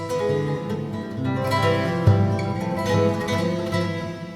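Acoustic guitar strums drenched in heavy reverb, notes smearing together into a washy, ringing wall of sound with no talking.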